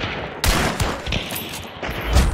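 Gunfire in the video game Hunt: Showdown, with loud rapid shots crackling in bursts, heavy and close, with no talking.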